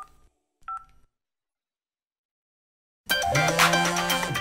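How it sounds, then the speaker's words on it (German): A few short, faint tones, a pause, then a loud burst of telephone dialing tones, clear and close. "Jetzt kann ich Kathi anrufen und ihr sagen, dass ihr Handy hier ist."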